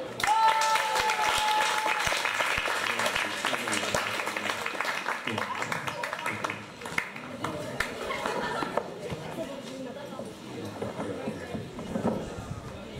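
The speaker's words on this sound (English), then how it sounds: "Clap it up." A stand-up comedy audience applauds steadily with dense clapping, tapering slightly while voices murmur underneath.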